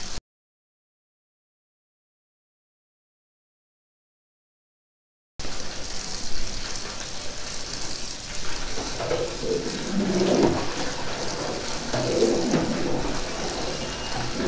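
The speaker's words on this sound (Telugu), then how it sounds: "ఒక పైప్ నుంచి ఆన్ చేసి వాటర్ పడుతుంది దాంట్లో." Water running from a pipe pours steadily into a large pot of curry gravy at a Hyderabad street food stall making poori and curry. The gushing starts abruptly after a stretch of silence and continues at an even level with stall noise behind it.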